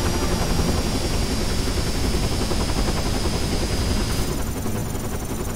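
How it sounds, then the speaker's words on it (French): Helicopter in the video game Dirge of Cerberus, a loud, continuous rotor throb and engine roar that holds steady throughout, with no talk over it. "on va se faire contre l'hélicoptère"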